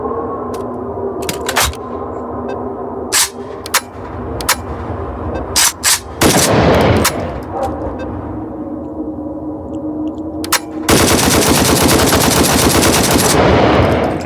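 Assault rifle firing in the VR shooter game Hot Dogs, Horseshoes and Hand Grenades: scattered single sharp shots, a short cluster of rapid fire, then a loud sustained automatic burst lasting a few seconds.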